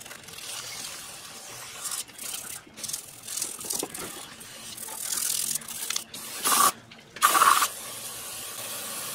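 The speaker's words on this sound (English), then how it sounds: "A little bit of the brake parts cleaner." Aerosol brake parts cleaner sprays in hissing bursts onto a Chevrolet Malibu's front brake and wheel bearing assembly, with clattering, rattling handling of parts between the longer sprays near the end.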